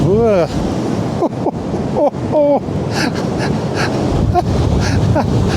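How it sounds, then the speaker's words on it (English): Ocean waves break and wash onto a shore, a broad roar mixed with gusts of wind buffeting the microphone, while a person talks over the surf. "You watch those waves in the distance and they're coming and coming and coming."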